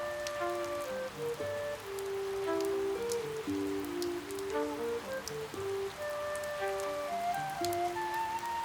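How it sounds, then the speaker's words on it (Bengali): Steady rain patters on surfaces during a rainy monsoon day in a Bangla cartoon, a continuous wash of drops under soft, sustained melodic tones. "আহারে, এই বৃষ্টি মনে হয় আমাদের সব শেষ করে দেবে।"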